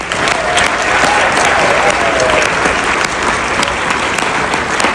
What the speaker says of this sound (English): Let's give a huge round of applause for all the efforts many in attendance tonight are putting forth